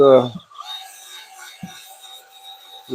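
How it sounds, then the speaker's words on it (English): 60-grit sandpaper against a wooden bowl spinning on a woodturning lathe, smoothing the surface and cleaning up end grain, gives a faint steady rasping hiss with a thin tonal whine, following a short spoken phrase. "60 grit. This is just to get things kind of smoothed off a little bit and some end grain cleaned up."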